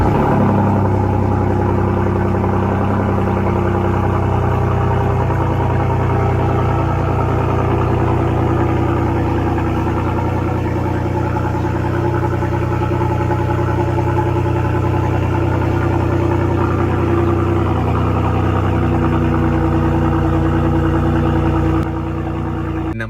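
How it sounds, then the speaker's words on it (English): A Ford F-150 with the 3.5L EcoBoost V6 and a Borla Attack exhaust idles with a deep, loud, steady rumble, holding an even drone close by throughout with only slight shifts and no talking. "So we're gonna go with the Borla Attack. It's very loud and it's very gnarly"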